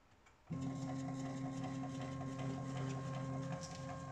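A CNC mill head with a stepper mount, on an MM25L mill, moves down with a steady mechanical whine and hum that starts abruptly and holds evenly, close and fairly quiet.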